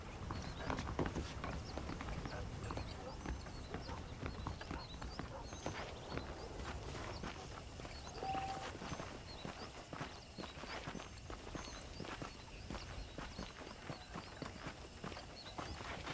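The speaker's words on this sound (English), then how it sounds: "The horses are saddled up over here." Horse hooves in Red Dead Redemption clip-clop steadily at a walking pace against a dense, busy background, with occasional faint whinnies.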